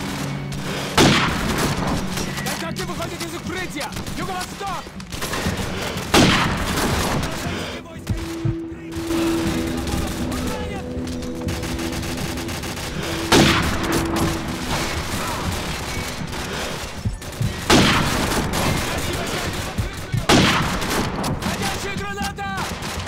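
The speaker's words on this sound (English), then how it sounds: "I love this sniper so much." Sniper rifle fire rings out in the Modern Warfare campaign, several sharp, loud shots spaced a few seconds apart over a dense bed of battle noise and rumbling.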